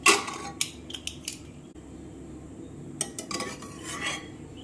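A pressure cooker lid is opened and handled after boiling almonds, giving quiet scattered metallic clinks and scrapes with short pauses between them; no talking.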